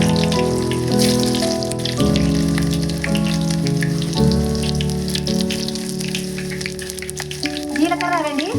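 Chopped onions hitting hot oil in a pan for a Birakaya curry, a loud steady sizzle and crackle that stays close and continuous, with faint tonal background music.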